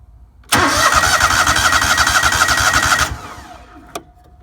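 Lawnmower engine with the choke on, cranked by its starter: a loud, close, rhythmic cranking churn for about two and a half seconds that stops abruptly, followed by a faint fading rattle and a single click.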